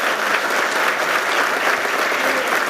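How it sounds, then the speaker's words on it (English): An awards-ceremony audience claps for the honorees, a thick, sustained wash of applause at constant loudness throughout, with no voices breaking through. "I'd like to give a hearty round of applause to our awardees today"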